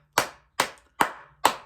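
Four sharp, separate hand claps in an even, deliberate rhythm, close and crisp, each ringing out briefly before the next, with no talk around them.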